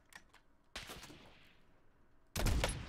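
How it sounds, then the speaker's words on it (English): Gunfire in Call of Duty Warzone: a few faint distant shots early on, then a louder burst of sustained shooting, followed by a sharp close crack near the end. "There's other people shooting at us"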